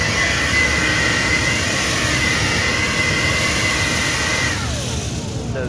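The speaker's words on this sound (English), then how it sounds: "They are really good blowers." A DeWalt 60V DCBL777 cordless battery leaf blower runs steadily at close range, a loud continuous airy whine and rush with a faint tonal hum, easing off slightly near the end, with no talking.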